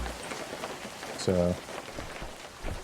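Steady soft patter of rain runs throughout in an Animal Crossing Wild World knockoff video game, with a brief synth tone and a person talking over it.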